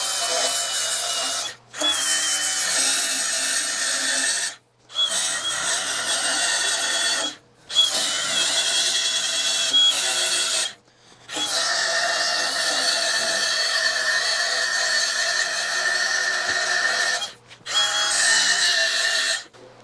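Lathe machining a taper on a stainless steel pump shaft, a loud, steady cutting whine broken by several brief pauses, with no talking.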